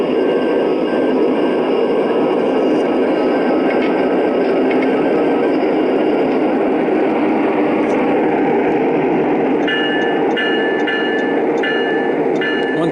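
A Lionel FEC model train engine powers up and runs along its track, giving a steady close rumble and whir with faint electronic chimes and tones toward the end.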